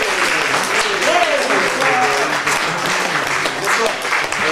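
A comedy-club audience applauds as a comedian walks onto the stage, a steady dense wash of clapping with a few voices calling out over it.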